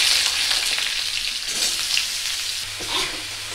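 Vegetables fry in a pan with cumin, dried red chillies and crushed ginger, a loud, close, crackling sizzle that runs throughout, with a few stirring sounds near the end.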